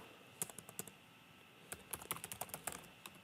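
Fingers tap out an email address on a computer keyboard in two bursts of quick, close clicks separated by a short pause, with no talking.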